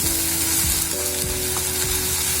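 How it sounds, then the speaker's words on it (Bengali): Beef brain frying with a little chili powder in a pan gives a steady, close sizzle with light stirring scrapes throughout, no voices. "ব্রাউন কালার করে আমি এটাকে ভেজে নিব।"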